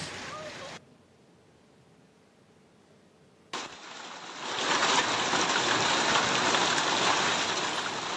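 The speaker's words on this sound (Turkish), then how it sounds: "Hatay'da akşam saatlerinde bölgesel olarak dolu yağışı etkili oldu." Hailstorm in Hatay during evening hours, with a steady dense patter of falling hail and rain on surfaces that grows louder and fuller after a brief quiet stretch, continuous and close.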